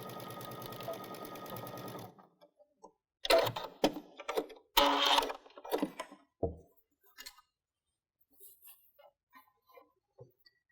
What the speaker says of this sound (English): Then I'm just going to stitch almost all the way down to the bottom, leaving about 1 inch opening at the lower edge.